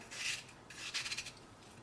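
A knife cuts through ash gourd in a home kitchen, making two short, faint scraping slices close by and no voices.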